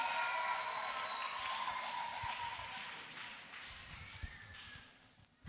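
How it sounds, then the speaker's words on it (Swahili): A crowd at a Sunday school conference claps for a departing teacher, broad steady applause with scattered cheering over faint background voices, easing off toward the end. "Tumpigie makofi Teacher Vene."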